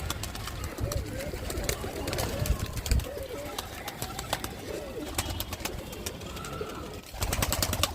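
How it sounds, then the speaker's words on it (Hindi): Pigeons coo around a home loft as the birds are let out, giving soft, repeated throaty calls amid rustling and scattered clicks, with faint voices in the background. "जितने भी कबूतर को मेरे को आज उड़ाना था वो सभी को मैंने आज बाहर निकाल लिया है।"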